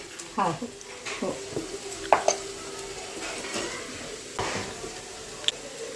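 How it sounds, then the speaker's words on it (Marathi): Onion sautéing in a pan until brown gives a low background sizzle broken by spatula scrapes and clanks against the pan, close and moderately loud, without speech. "आता ह्याच्यात कांदा टाकलाय आणि कांदा लाल ब्राऊन होईपर्यंत परतवून घ्यायचा"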